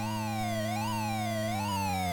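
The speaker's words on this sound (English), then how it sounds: "This police siren, I don't know if they've taken that from a sound effects library" Police siren from the ZX Spectrum 128K racing game Crazy Cars II, a synthetic rising-and-falling electronic wail over a steady low buzzing engine tone, loud and continuous with no talk.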